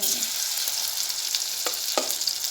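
Cauliflower coated in cornflour and flour fries in oil with a dense, bright bubbling sizzle, punctuated by a few quick clicks of a spatula or spoon.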